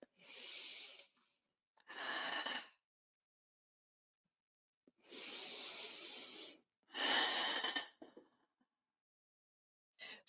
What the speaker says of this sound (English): Let's take 2 more breaths here in our twist.